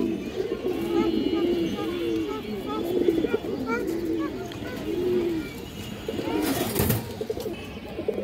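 A pair of Shap Chila pigeons coos repeatedly in a steady rhythm of rolling calls, close by, with a sharp noise burst near the end.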